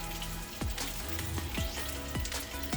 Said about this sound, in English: mix it around, let it simmer for about 5 minutes